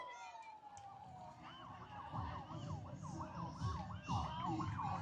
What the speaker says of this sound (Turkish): Sirenler çalıyor.